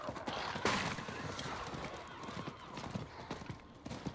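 Hooves of a horse in the game Diablo IV clip-clop steadily at a trotting rhythm, fairly quiet, with soft gameplay ambience around them.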